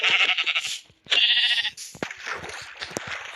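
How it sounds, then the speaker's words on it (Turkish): Several loud, wavering sheep bleats from Minecraft follow one another closely, sounding near and a little artificial, with brief clicks between them. "burası koyun dolu"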